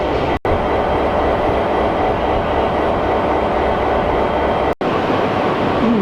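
A loud, continuous rumble of the Inlander train rolling along the tracks in Queensland toward Mount Isa fills the recording, broken by two brief cutouts.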